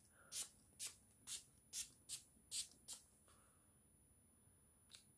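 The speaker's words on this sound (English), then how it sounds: "Let's wait for the spray" Makeup setting spray misted in seven quick, evenly spaced hisses, then a pause and one last short puff, close to the microphone in a quiet room with no talking.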